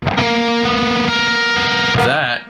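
A sustained, distorted note from an inexpensive electric guitar rings out loud and buzzy in a metalcore lead, then bends and wavers briefly before cutting off.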